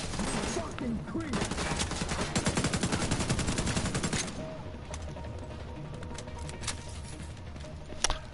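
Rapid automatic gunfire in The Division 2 crackles in a dense, loud stream for several seconds, then drops away to scattered quieter shots and background battle noise, with a voice faintly under it.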